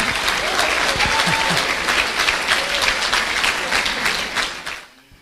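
Loud, dense applause from a church congregation during a worship service, sustained clapping that fills the space for several seconds before quickly dying away.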